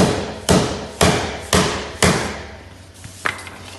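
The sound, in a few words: rubber hammer tapping wheel rim protector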